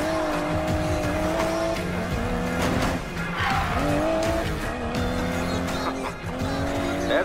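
An Aston Martin DB11 in the Need for Speed video game roars with a steady, rising and falling engine note while its tires squeal loudly through several skids, close and continuous, with no voices.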